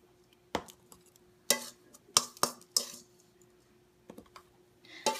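Bath bomb mixture spooned into a mold, producing sharp, close clicks and taps of the spoon against the mold in an irregular series, several clustered together, over a steady faint hum.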